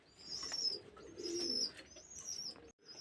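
A Giribaz pigeon brooding on two eggs gives soft repeated coos at close range, with a few high chirps over the top and a brief silence near the end.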